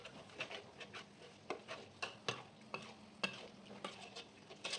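Mussels being stir-fried with seasonings in a pan, a spatula scraping and clinking in a string of sharp strokes over a soft sizzle, close and fairly quiet, without speech.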